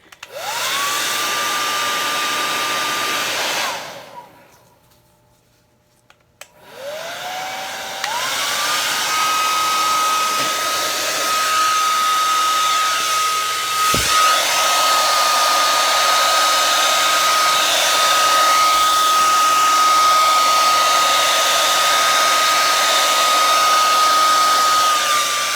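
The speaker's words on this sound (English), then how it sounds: "No, I'll use my hairdryer." A hair dryer blows steadily over poured acrylic paint, a loud continuous whine that cuts off briefly and restarts, then runs on without talk.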